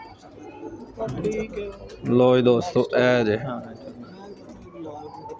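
Pigeons from a breeder's loft give soft, throaty coos in a few bursts, close by and fairly loud, while someone talks over and between them.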